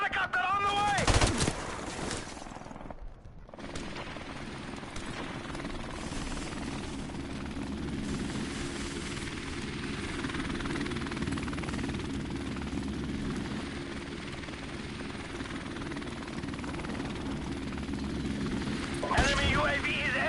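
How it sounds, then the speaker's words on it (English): A friendly helicopter flies through a shooter video game match, its steady rotor drone sustained loud throughout, mixed with bursts of gunfire and battle noise while a voice talks over it. "Friendly helicopter on the way."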